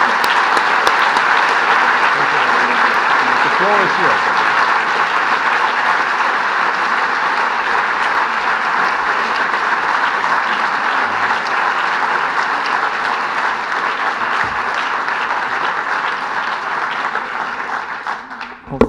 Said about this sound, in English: Please join me in applauding you.